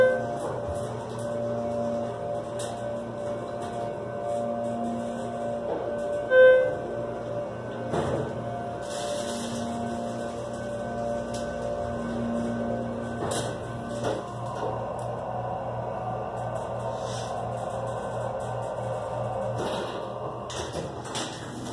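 A Schindler 330A hydraulic elevator motor at a Boscov's store in CT Post Mall, Milford, Connecticut, runs with a steady low hum and drone, broken by scattered clicks and clunks, heard fairly close with no talking.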